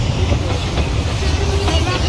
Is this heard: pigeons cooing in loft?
no